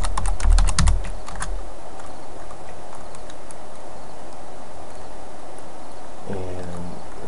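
Keyboard keys clicked in a quick burst of typing for a file name, loud and close at the start, then a faint hum, with a few more taps near the end.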